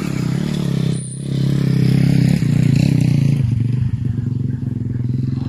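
A motocross bike engine revs hard on a dirt track as the rider opens the throttle, a loud, close, continuous buzzing roar with a brief dip before climbing again, with no one talking.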